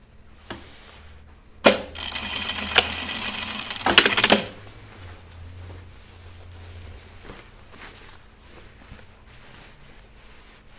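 A sewing machine stitches a seam on a pair of jeans in two short, loud whirring runs, with quieter handling clicks and taps scattered around them and little talk.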